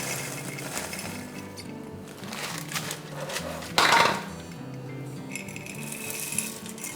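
Frozen fire-roasted corn tumbles into a pot for vegan white chili, an irregular rattling clatter of kernels against metal that swells into a louder rush midway, then thins to scattered clinks.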